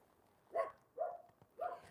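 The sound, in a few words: dogs barking nearby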